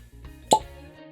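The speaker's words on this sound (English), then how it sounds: "That was a good cork pop" A single sharp cork pop as the stopper is pulled from a bottle of Old Forester 1924 bourbon whiskey, one close, loud plop in an otherwise quiet room.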